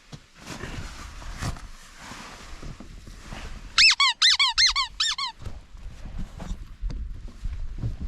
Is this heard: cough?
no